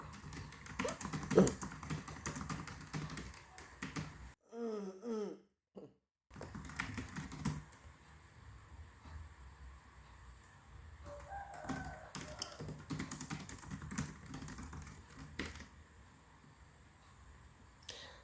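Computer keyboard typing while organisation details are entered into an online PGN Career job application form, with a steady run of close, light key clicks and a short pause partway through.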